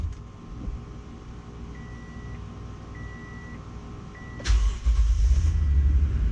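A salvage Toyota Tundra pickup with a freshly repaired spindle on its first test drive: a steady engine and cabin drone runs throughout, then a sudden louder burst of road and engine noise near the end as the truck picks up.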